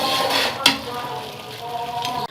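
A zarda sweet rice mixture with kewra essence is stirred in a pan, with a low sizzling hiss and soft scraping throughout and one sharp spoon knock early on.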